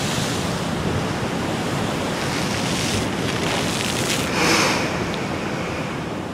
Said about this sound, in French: j'espère qu'on va avoir quelques belles vagues d'ici